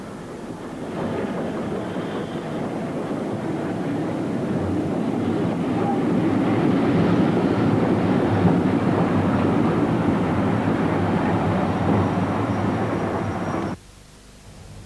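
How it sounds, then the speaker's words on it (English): Steam locomotive Duchess of Hamilton hauling a southbound Cumbrian Mountain Pullman near Appleby on the Settle and Carlisle line, a steady heavy rumble and roar that builds as the train nears and holds loud before cutting off abruptly. "Duchess of Hamilton, approaches Appleby with a southbound Cumbrian mountain Pullman"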